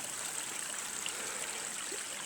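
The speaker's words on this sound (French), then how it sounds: "juste sur un petit ruisseau là" Water of a small stream near old lime kilns by the Chavanon river runs in a steady, broadband rush with a soft trickling texture, constant and close, with no voices.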